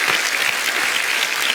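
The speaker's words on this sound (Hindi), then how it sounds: "तालियां" A studio audience at a comedy show applauds, a thick, steady burst of clapping that lasts under two seconds with no voices over it.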